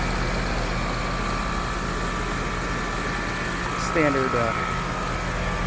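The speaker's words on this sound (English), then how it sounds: "Here's a Rheem AC compressor unit at a barbecue place." A Rheem AC compressor unit runs outdoors at a barbecue restaurant, producing a loud, steady low hum and drone with a faint tonal whine, while someone speaks briefly over it.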